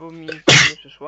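A single loud, sharp sneeze bursts out in the middle of casual voice-chat talk while friends play a game online.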